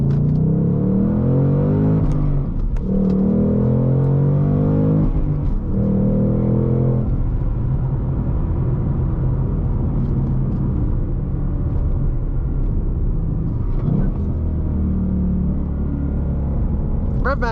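Ford Mustang Mach 1 V8 engine at close range, a loud rumbling drone that surges and dips with several quick rev blips during rev-matched downshifts, while someone talks over it.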